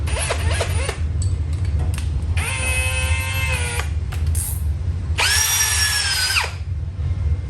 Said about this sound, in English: the shavings that we're drilling the aluminum with will adhere to the grease